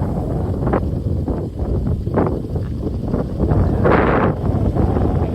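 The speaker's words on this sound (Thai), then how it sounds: "ลมพัดมากเลยนะตรงนี้" Strong wind buffets the microphone across an open rice field near a wind turbine, a steady broadband roar with gusts swelling and a louder blast near the end, no talking.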